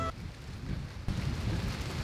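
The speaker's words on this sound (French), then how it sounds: "il y a énormément de vent, les conditions sont vraiment pas bonnes aujourd'hui. Pluie, vent, c'est l'hiver." Winter rain and strong wind outdoors make a dense, steady roar of rushing air and falling water, close and fairly loud, with a gust swelling halfway through and no talk.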